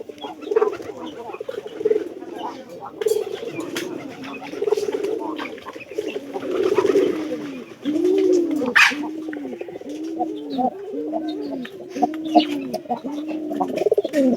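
Pigeons being let out late in the day coo in a steady run of repeated rounded calls, close and fairly loud, with a few sharper bird chirps above and no speech.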